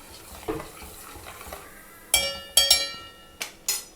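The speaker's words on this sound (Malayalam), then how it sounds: "ജസ്റ്റ് ഒന്ന് ഇളക്കാം." Sugared red wine in a pot being stirred, giving a faint scraping and then several sharp metallic clinks of the utensil against the pot, close and clear in a quiet room.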